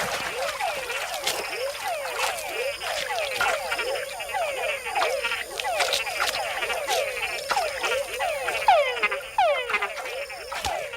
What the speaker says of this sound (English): And with other bigger frogs nearby, a call can be a fatal attraction.